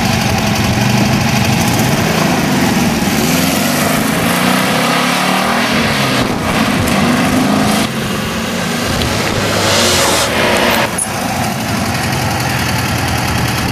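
A loud engine runs steadily throughout, a deep rumbling idle with a few brief revs and shifts in tone, no voices present.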